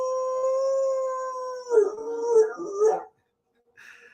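A dog howls like a wolf in a long sustained wail that breaks into wavering yips and whimpers, loud and close, then goes quiet before a faint brief cry.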